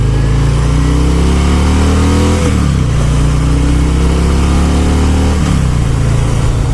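A 2018 Harley-Davidson Fat Boy 114 motorcycle accelerates hard on a test ride, its loud, close engine roar climbing steadily in pitch, with two brief dips where it shifts gears before pulling again.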